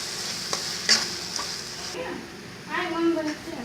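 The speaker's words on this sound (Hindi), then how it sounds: "इसको हम मसाले को अच्छे से फ्राई कर लेंगे" Spiced masala with red chili powder frying in a pan for Mithila-style fish curry, a steady sizzle with occasional stirring scrapes and a brief sharper clatter, close and moderately loud.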